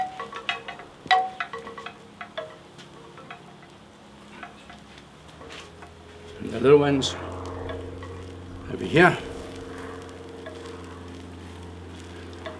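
Meat laid on a hot braai grill gives a soft, continuous sizzle in the background, with a brief spoken remark early on and a couple of louder clattering handling sounds midway.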